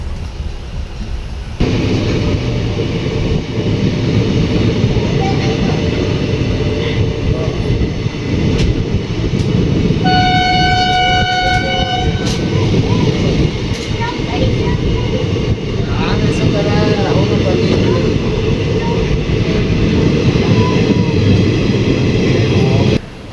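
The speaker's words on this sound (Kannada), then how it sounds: "ಈ ಟ್ರೈನ್ ಅಂತೂ ಸಿಕ್ಕಾಪಟ್ಟೆ ಹೋಗ್ತಾ ಇದೆ" A long goods train hauled by two engines rolls steadily past at close range, a continuous heavy rumble and rattle of wagons throughout, with a brief horn-like tonal blast in the middle and occasional voices underneath.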